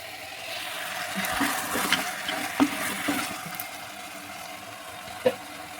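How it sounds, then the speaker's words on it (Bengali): Okra cooks with light spices in a pan, giving a soft, even frying hiss close by with scattered faint stirring scrapes and a couple of sharp clicks. "ঢ্যাঁড়সটায় একটু হালকা করে কষানো হতে থাক"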